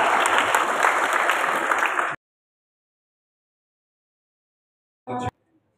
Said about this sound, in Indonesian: Boleh tepuk tangan sekali lagi buat Saat.